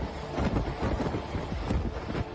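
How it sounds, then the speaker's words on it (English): Strong storm wind from Storm Ingunn in Norway, gusts up to 120 mph: a loud, continuous roaring rush with buffeting against the microphone, steady and dense throughout with no speech. "Storm Ingunn, Norway's most powerful storm in 30 years, with 193 kilometers per hour, or 120 miles per hour gusts,"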